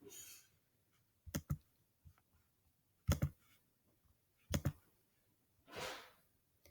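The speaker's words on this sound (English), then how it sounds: "I just click the little keyboard button down here." Clicks on a Chromebook's on-screen keyboard button, heard as several sharp, separate taps spread out with short pauses and no talking.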